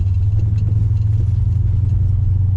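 A car with repaired rear end and modified wheel guards rounds a roundabout, its engine giving a steady low rumble from inside the cabin, with no scraping or rubbing from the wheels and tyres.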